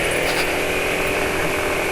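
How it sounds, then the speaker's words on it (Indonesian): A car engine running on Amsoil Signature 5W-50 oil idles roughly and loudly nearby, a dense, steady rattling drone with a harsh, uneven texture throughout. "suara mesinnya agak kasar ya"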